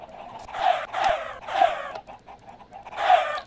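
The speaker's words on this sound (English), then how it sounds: "I'm here at the chicken farm." Chickens on a Minecraft chicken farm cluck in four quick bursts spread across a few seconds, loud and close, with no voices.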